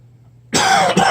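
A person recovering from a respiratory illness coughs twice in quick succession after a near-silent moment, sharp and close.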